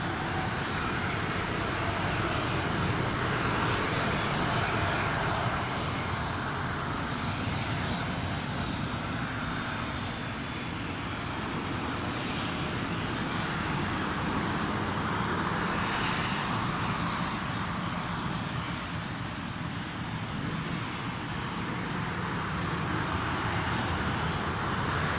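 A Jet2 airliner moves at Newcastle International Airport, its engine noise a steady, loud broadband roar that holds unchanged for the whole stretch, with no voices over it.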